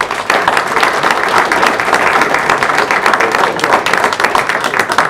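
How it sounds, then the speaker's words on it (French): An audience at a football club's official team presentation gives dense, continuous, fairly loud applause for the sports official, with no break in the clapping throughout. "encore merci à notre cheval des sports que l'on peut applaudir"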